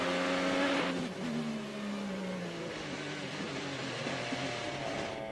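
An IndyCar engine in 2017 racing drops through gears as its tires lock under braking, its steady engine tone sliding downward in pitch, loud and sustained with no voices.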